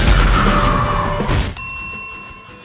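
Star Fox 64 sound effect played on a Lexibook plug-and-play TV game console: a dense, loud synthetic whoosh fades, then a sharp bright electronic ding rings out and decays, alone without talk.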